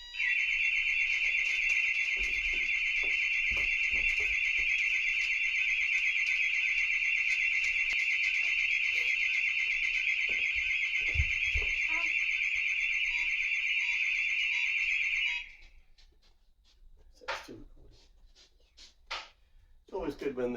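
A scooter alarm blares indoors as a loud, steady electronic tone for about fifteen seconds, then cuts off abruptly, followed by quieter handling sounds and talking.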